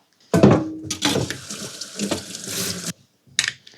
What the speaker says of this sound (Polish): I oczywiście dechę myję.